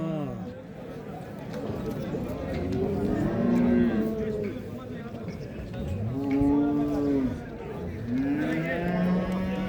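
Heifers moo at a livestock market in Sungurlu, Çorum, several deep drawn-out lowing calls from nearby cattle, with people talking in the background throughout.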